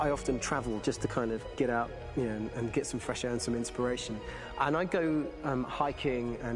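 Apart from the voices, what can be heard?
No everyday noises stand out.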